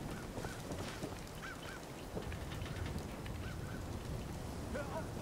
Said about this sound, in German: Boah, es regnet, ne?